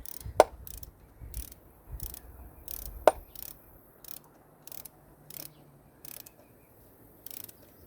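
A ratchet tightens valve cover bolts on a Jeep 2.4 engine, making a series of quiet, regularly spaced clicking bursts with a couple of sharper metallic knocks.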